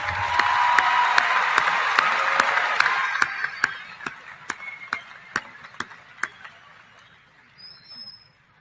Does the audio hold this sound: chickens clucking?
no